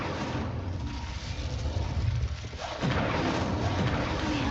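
Incendio fire spell cast in Hogwarts Legacy: a loud, sustained rumbling, booming roar of flames that runs throughout, with a brief dip before surging again.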